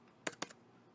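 Typing on a computer keyboard: two quick, close key clacks in a quiet room.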